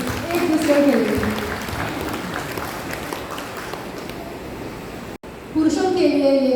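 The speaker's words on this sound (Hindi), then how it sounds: "चलिए सबको ताली हो जाएगी एक दूसरे के लिए।" A congregation at a church gathering claps for one another, a dense sustained burst of applause that fades out, breaks off, then resumes with a voice over it.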